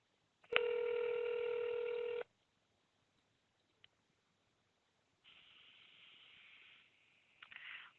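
A short burst of DTMF telephone keypad tones dials a call center's main number, a steady multi-tone beep lasting under two seconds, followed by quieter ringback-like tones on the line.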